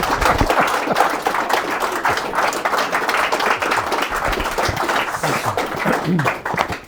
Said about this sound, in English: Will you please give Henry a big round of applause?